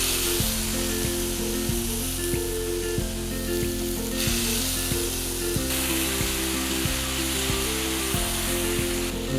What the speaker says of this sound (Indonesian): Nah ini kita mau tumis sebentar aja supaya ada aroma harumnya.